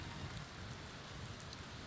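Steady video game rain falls with environmental weather effects enabled, a constant soft hiss of drops at low level with no voices over it.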